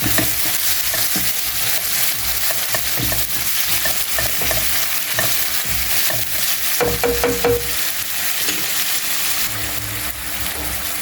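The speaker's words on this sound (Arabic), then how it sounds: "نضيف انا الكالامار اللي قطعته صغير على هذيك البصله، ونخليه يتبخر ويطيب عندنا" Small-cut calamari frying with onion in a pan, a steady loud sizzle with stirring scrapes throughout, no voices.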